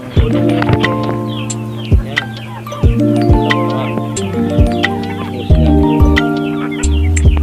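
Several Rhode Island chickens cluck and call close by during breeding season, overlapping bursts of clucks and squawks in an irregular rhythm, with occasional louder calls.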